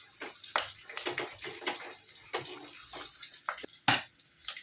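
Garlic, curry leaves, fenugreek seeds and cumin crackling in hot oil over onions that have already browned, giving close, irregular sharp pops and spits over a soft sizzling hiss, with no talking.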